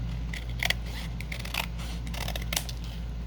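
Scissors trim a crooked edge off a tall fabric tag with pockets, producing several short, crisp snips spaced irregularly over a low steady background hum.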